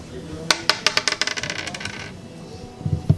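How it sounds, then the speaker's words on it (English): Dice rolled onto a hard surface give a burst of sharp, close clicks and clatters that bounce rapidly, thin out and settle within about two seconds, followed by a brief low murmur. "if we roll a 6 on the dice"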